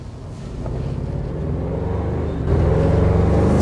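A 2025 Toyota 4Runner TRD Off-Road with the i-FORCE MAX hybrid powertrain accelerates in sport mode, its low engine drone building and swelling louder partway through, heard from inside the cabin with some wind rush.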